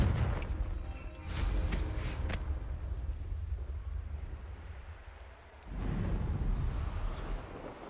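A Confringo fire spell in Hogwarts Legacy goes off as a heavy, booming blast with a crackling burst near the start. A rumbling roll follows, and a second thudding surge arrives late.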